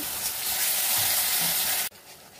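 Spice paste with cashew frying in oil in a wok makes a loud, continuous sizzle with faint stirring, which drops away sharply near the end.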